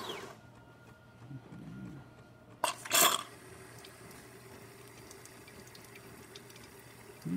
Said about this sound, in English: We're gonna be using water instead of milk, but it's still siphoning the water pretty well.